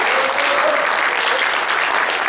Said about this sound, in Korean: 지금부터 제가 호칭하신 분들 일어나신 박수를 좀 보내주시기 바랍니다